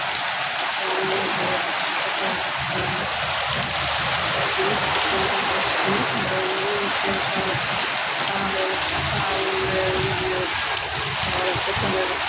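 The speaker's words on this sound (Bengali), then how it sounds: "বৃষ্টি হচ্ছে" Rain falling steadily, a dense loud continuous hiss of drops with a faint tonal hum beneath, uninterrupted throughout.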